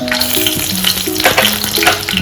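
Whole spices such as bay leaf, cloves, cardamom and cinnamon frying in hot oil for a dal and mutton dish, a loud continuous close sizzle and crackle with some tonal background sounds, no speech.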